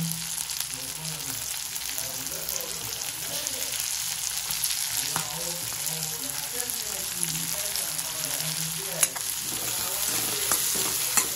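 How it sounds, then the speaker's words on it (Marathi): Chopped onion frying and being stirred in a pan on high flame for chicken chilli, a steady loud sizzle throughout with scraping stirs. "आपल्याला हे फास्ट गॅसवर शिजवायचं आहे. आपल्याला लगेच टाकायचा याच्यात कांदा."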